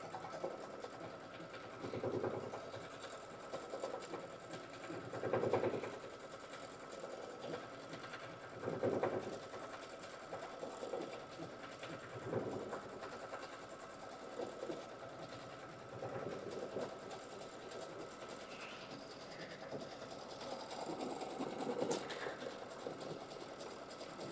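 A quilting sewing machine runs a bean stitch with black thread, a steady low motor whir and needle chatter that swells in regular surges every few seconds, moderately close and fairly faint.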